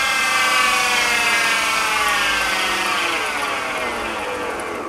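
A belt-driven mini mill runs steadily at its slower speed, a continuous motor whine with a smooth mechanical hum, loud and close, holding even throughout with no talking.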